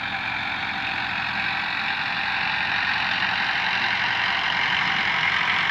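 Massey Ferguson 245 DI tractor with a 47 horsepower engine and right-side silencer, running at a steady, rumbling idle-like drone, close and continuous with no voices.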